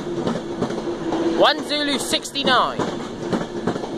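Class 390 Pendolino 390005 City of Wolverhampton departs platform 3 at Carlisle with a low rumble and rising, swooping whines and squeals from the train as it moves off, while people talk nearby.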